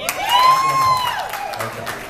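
An audience at an opening show introduction cheers and claps loudly, with whoops and raised voices in a lively, crowded hall for a couple of seconds.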